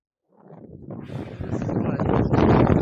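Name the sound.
wind blowing outdoors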